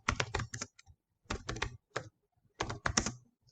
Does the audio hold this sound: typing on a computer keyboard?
yes